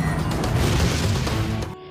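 Animated energy explosion sound effect from the Soul Land 2 series, a dense, loud rumbling blast that sustains for nearly two seconds and then cuts off abruptly.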